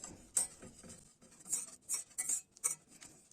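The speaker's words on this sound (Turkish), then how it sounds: "Bunları önce tenceremiz soğukken alıyoruz. E, topaklanmaması için önce bir karıştıracağız." A spoon scrapes and clinks against the side of a cold pot while starch is stirred into grape molasses. The strokes come in quick, irregular bursts, close and fairly quiet, with no talking.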